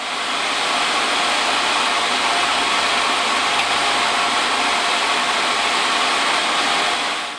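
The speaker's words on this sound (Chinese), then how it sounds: "鼓风扇根本就是吵死了" A blower-style fan on an RTX 3090 graphics card in a small ITX all-in-one PC runs loudly, a steady broadband whoosh that holds constant throughout and fills the foreground with no talking.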